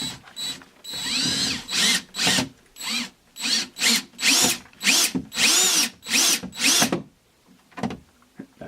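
A power drill drives two screws into a wall corner to mount an Insteon motion sensor, firing in about a dozen short, loud whirring bursts with brief pauses between them, then going quiet near the end.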